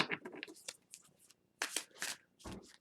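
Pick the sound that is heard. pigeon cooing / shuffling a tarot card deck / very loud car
shuffling a tarot card deck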